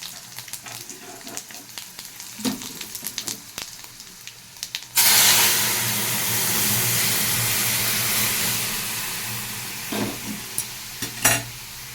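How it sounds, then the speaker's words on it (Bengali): Bay leaf, radhuni and dried red chilli hit hot oil for a dal tempering. After light kitchen clatter, a loud, sudden sizzle erupts and hisses on steadily, with a few stirring knocks near the end. "তেজপাতা, রাঁধুনি আর শুকনো লঙ্কা ফোড়ন দিয়ে দিচ্ছি।"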